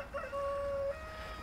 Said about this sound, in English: sorry, I've got a rooster